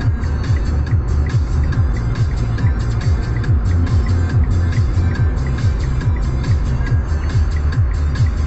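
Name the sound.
fast cars passing on the road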